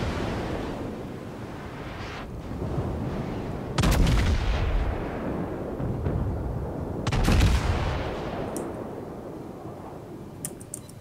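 Heavy naval guns of the battleship Gneisenau firing in a naval combat game, two big booming salvos a few seconds apart, each with a long rumbling tail over a constant background of sea and engine noise, with no talking.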